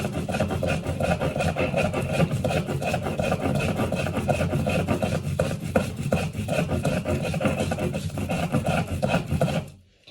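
Continuous rough scraping and rubbing of garlic and onion being ground on a grinding stone, steady rhythmic rasping that stops abruptly at the end.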